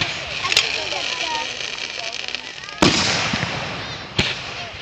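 A fireworks display outdoors, with a steady crackling hiss of shells shooting up and a few sharp, loud bursts popping out; a voice speaks briefly.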